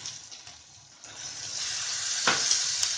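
Onion, cumin, coriander and tomato puree sautéing for paneer masala, a steady close sizzle that swells louder, with a single utensil scrape partway through.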